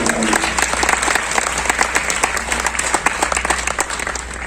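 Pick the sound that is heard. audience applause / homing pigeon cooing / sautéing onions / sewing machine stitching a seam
audience applause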